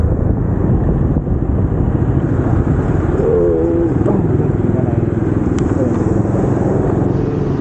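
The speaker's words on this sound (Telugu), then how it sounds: "ట్రాఫిక్ ఉంది." Road traffic of cars and motorcycles on a highway in Maharashtra, held up after a damaged lorry. A steady, loud engine drone and wind rush continue throughout, with faint horn-like tones partway through.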